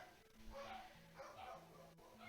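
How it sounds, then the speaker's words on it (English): Dogs bark and yip in a few quick bursts, faint and somewhat distant behind a steady tone, with a little whimpering. "my dogs are going ham"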